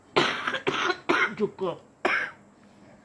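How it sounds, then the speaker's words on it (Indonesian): A woman who is unwell and wearing a face mask gives a series of close, harsh coughs and throat clearings in quick bursts, then a short spoken word. "Mak saya batuk tu"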